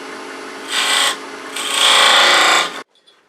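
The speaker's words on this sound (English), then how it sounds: "we're going to make V cuts on both those lines. We're going to make this V cut." A wood lathe tool cutting a V groove into turned wood makes a steady rasping scrape in two bursts, a short one then a longer sustained one, over the lathe's low hum, which stops abruptly at the end.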